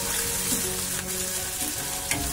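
Curry leaves and tomato sizzle steadily in a frying pan, a continuous close crackle with faint stirring scrapes and no voices.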